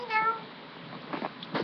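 A person's voice imitates a cat's meow, delivered as one drawn-out, nasal yowl followed by shorter rising cries, loud and close.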